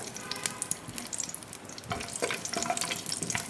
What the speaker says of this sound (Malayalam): അതേ എണ്ണയിലേക്ക് തന്നെയാണ് കാഷ്യൂനട്ട് ഇട്ട് ഒന്ന് ചൂടാക്കിയെടുക്കാം